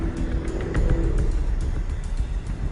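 A car drives along a desert road on Darfur's border, a steady close engine drone and tire rumble holding even throughout with faint rattles, no talking.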